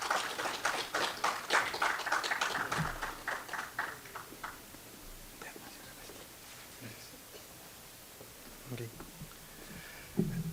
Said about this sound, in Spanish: les pido un fuerte voto de aplausos para el ingeniero Daniel Lino